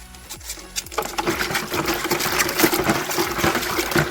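Muddy water from a tank gushes and splashes steadily out of a water filter with a rough, churning texture, fairly close and continuous throughout, with a low mechanical hum underneath.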